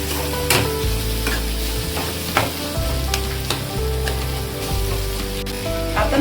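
Eggplant and potato dry vegetable fries in a pan while being stirred, with a steady close sizzle, repeated scraping strokes and occasional sharp clicks of the spoon.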